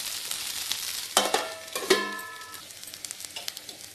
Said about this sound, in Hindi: डाल करके इसको अच्छे से 2-3 मिनट तल लेना है, ताकि अच्छा लगेगी, थोड़ा सा पक जाए 2-3 मिनट